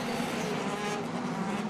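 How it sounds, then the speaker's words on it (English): DTM race cars roar away at the Lausitzring circuit during a 2016 race start, a dense continuous engine roar heard from a distance, steady and unbroken throughout. "it's a fantastic sound as the DTM cars roar off the line"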